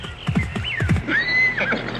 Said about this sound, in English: I heard him neigh.